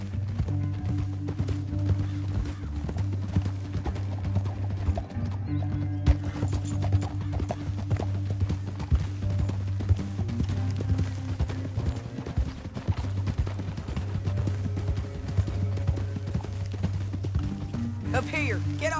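Horses gallop in Red Dead Redemption 2, a steady rapid clip-clop of hooves running close alongside faint whinnies and a low musical drone, with people talking over parts of it.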